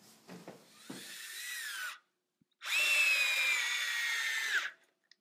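A Festool CXS compact cordless drill driving a 2.5 to 3 inch screw, heard as two close, steady whirring bursts with a rising pitch, the first shorter and the second longer and louder, separated by a brief pause.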